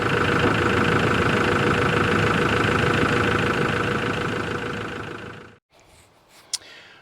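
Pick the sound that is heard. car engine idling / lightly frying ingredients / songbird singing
car engine idling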